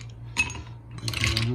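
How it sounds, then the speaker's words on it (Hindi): A few ice cubes dropped into a container, giving sharp clinks and rattles in two quick bursts, close and fairly loud. "इसमें बर्फ़ डाला है थोड़ा सा"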